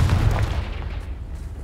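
A Confringo blasting spell explodes in the Hogwarts Legacy video game, a deep, rumbling boom that swells at once and fades over about a second and a half.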